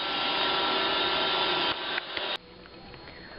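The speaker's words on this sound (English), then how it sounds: "Roomba, what are you doing?" A Roomba robot vacuum cleaner whirs with a steady bright hum close by, then its motor cuts down in steps and goes quiet, leaving a faint background hiss.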